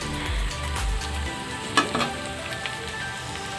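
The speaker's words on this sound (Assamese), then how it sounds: "মছলাখিনি ভজা হৈ গ'ল" Spices sizzle steadily in a hot pan while being cooked for an Assamese mustard fish curry. The frying is continuous and close, with a few brief clinks, and no one speaks.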